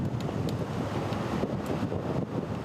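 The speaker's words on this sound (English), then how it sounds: "you don't have to look far to notice just how powerful those wind gusts are" Strong wind gusts buffet an outdoor microphone in Ramona in East County, producing a steady, loud, low roar with slight surges and no voices.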